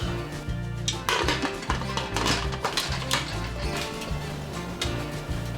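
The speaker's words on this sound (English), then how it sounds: "Then I'm going to place the lid on." A lid set onto a pot of Jamaican rice and peas cooking in coconut milk, heard as a series of close metallic clinks and taps over steady background music.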